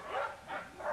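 A dog barks three times in quick, evenly spaced yips indoors, somewhat faint and slightly distant, with no talk over it.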